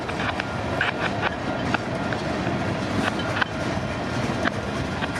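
A CPKC freight train, number 421, rolls steadily past close by, its wheels clattering in a continuous rumble with repeated sharp clicks as cars cross rail joints.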